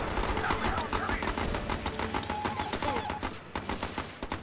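Dense gunfire from the strategy video game Battle Islands Commanders, a steady loud crackle of rapid shots with heavier bursts, continuous for the whole stretch with game noise underneath.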